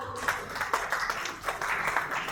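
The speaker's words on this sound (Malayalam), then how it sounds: "ജോർജ് അങ്കിളിനെയും ഷൈനി ആൻറ്റിയെയും നല്ലൊരു കയ്യടിയോടുകൂടി നമുക്ക് അവരെ വേദിയിലേക്ക് സ്വാഗതം ചെയ്യാം." A crowd applauds steadily, a dense wash of clapping that carries through the whole moment without a break.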